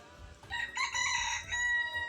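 A rooster crows once, a loud, drawn-out call rising and holding near the listener, with no talk over it.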